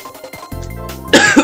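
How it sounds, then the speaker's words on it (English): One person gives a short throat-rasping cough after a brief sustained vocal sound, close to the microphone and fairly loud. "This cough."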